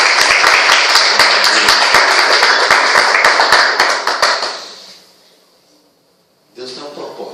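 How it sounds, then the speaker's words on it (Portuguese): A church congregation at Igreja Cristã Vida claps in worship: loud, rhythmic, steady handclaps for about five seconds that fade to near silence, then a voice resumes speaking. "Louva o Senhor com as Tuas palmas"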